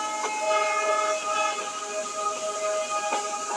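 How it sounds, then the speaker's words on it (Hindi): In a train simulator game, a WDG3A diesel locomotive hauling a BCNA freight train on an Indian main line sounds a long, steady horn tone over a constant engine rumble, heard close and without speech. "एक लॉन्ग हॉर्न मारते रह रहा हूँ ऐसे में स्पीड एक्सेलरेटिंग कर रही हूँ"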